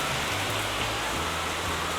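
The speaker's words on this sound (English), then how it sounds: "It is pouring." Heavy rain pours down in a dense, continuous hiss of drops, loud and unbroken for the whole stretch, with a faint low hum beneath.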